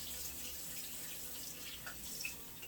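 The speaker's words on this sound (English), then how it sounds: "I'm washing the rice" Rice being washed by hand in a pot of water for a Creole meal, faint sloshing and trickling with small splashes and drips, quiet and close, no talking.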